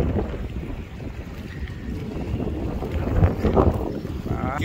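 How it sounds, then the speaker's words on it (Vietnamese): Strong wind and choppy waves around a fishing boat out at sea near Sandy Hook reef, a loud buffeting rush of wind noise over sloshing water that surges toward the end. "Sóng gió quá, chạy vô đây tốn 2 tiếng đồng hồ rồi."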